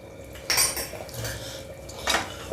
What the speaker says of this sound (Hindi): इसको चला देंगे